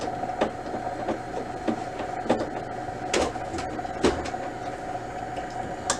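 Ink cartridges click into place in an HP Officejet 6978 printer, a series of sharp plastic clicks and snaps over a steady low mechanical hum, close and moderate in loudness.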